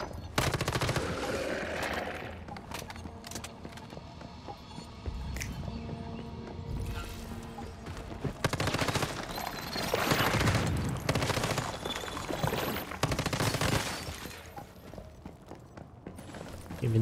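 Gunfire in the survival shooter Once Human rattles in bursts and single cracks over a busy game soundscape, with rapid volleys clustering toward the middle and end.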